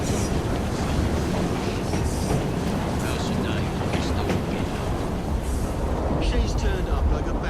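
A train rolls along in Assassin's Creed Syndicate, a dense continuous rumble and clatter of wheels on track that stays loud and steady throughout, with voices faintly in the mix.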